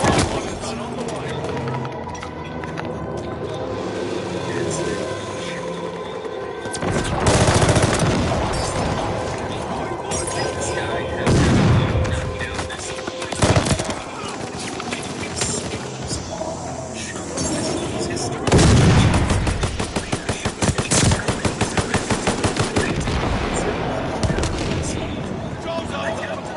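Bombing run with rolling explosions and bursts of gunfire in a Call of Duty match, loud and dense, with heavy booms near the middle and late stretches and steady game noise throughout.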